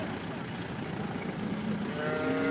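Cattle at the Sangola livestock market moo, one drawn-out call rising near the end over a dense, noisy crowd and market din.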